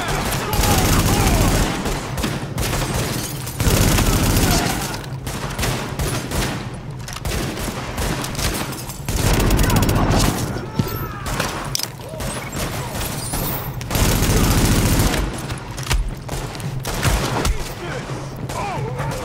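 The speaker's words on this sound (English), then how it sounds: "Wow, all those shots." Gunfire from the shooter game Tom Clancy's The Division rattles in repeated loud bursts and sustained volleys, with brief lulls between heavy fusillades and some voices mixed in.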